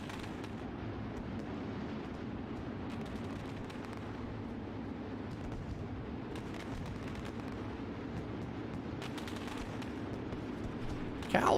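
Fireworks bursting over Knoxville Raceway during a race event, a continuous loud crackling and booming barrage with dense overlapping blasts, rising to a sharper burst at the end.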